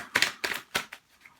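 Tarot cards shuffled in a few quick riffling bursts, close and crisp, three strong snaps followed by softer flicks, no voices.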